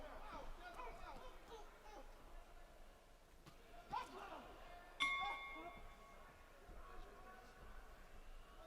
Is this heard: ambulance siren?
no